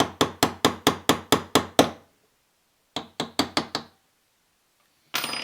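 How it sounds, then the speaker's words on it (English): Sharp knocks of a tool on a Beretta A400 shotgun's bolt handle as it is driven back into the receiver: a rapid run of about eight taps, a pause, then five more, close and crisp. "we just get it started and give it a couple taps"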